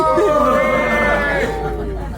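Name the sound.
people cheering on uphill cyclists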